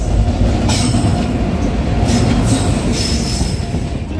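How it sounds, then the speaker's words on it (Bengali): The Kanchankanya Express pulls into a station, a loud, close rumble of rolling wagons with wheel squeal and some clatter running throughout, no talk. "আমাদের ট্রেন ঢুকছে"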